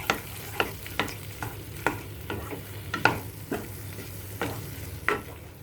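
Kadhai paneer gravy being stirred in a pan, a spoon scraping and tapping in a steady rhythm of roughly ten sharp strokes over a soft sizzle, close and fairly quiet, with no talking.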